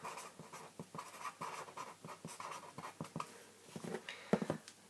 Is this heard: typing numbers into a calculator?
yes